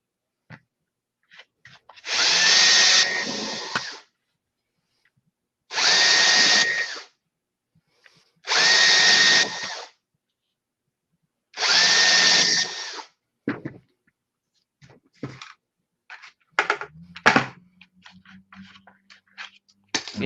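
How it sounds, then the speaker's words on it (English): Four bursts of a power drill whirring through material, each about a second long with short pauses between, followed by clattering and handling noises. "And then drill through each one of these holes here."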